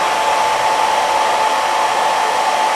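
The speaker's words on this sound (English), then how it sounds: "hold the popcorn, turn on the hair dryer." A hair dryer blowing on popcorn kernels, a loud, steady whooshing roar with a faint constant whine, running alone throughout.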